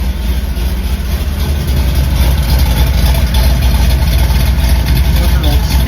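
A 1977 Chevy Camaro engine idles loud and steady while warming up, a continuous low rumble close by with no break in its drone.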